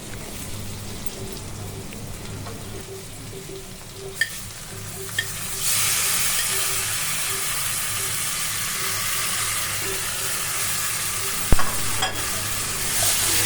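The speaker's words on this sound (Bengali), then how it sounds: "দেখো এইভাবে আমি ভেজে নেব কুমড়োগুলি আর পেঁয়াজ মরিচের সাথে আবারও।" Chopped ash gourd hitting hot oil with fried onion and green chili in a pan, a steady sizzle that jumps louder partway through as the pieces go in, with a few sharp clinks of a spoon stirring; no talking.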